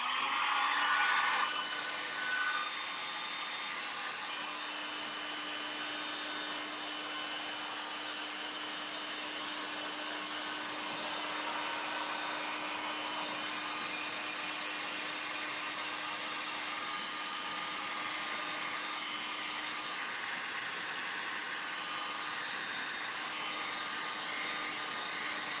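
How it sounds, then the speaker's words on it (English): A heat gun blows over a decoupage craft, making a steady, moderately loud whoosh of air that holds for around twenty-five seconds. A faint steady tone runs through the middle, and no one speaks. "I'm going to use the heat gun just a minute so we can go ahead and decoupage these."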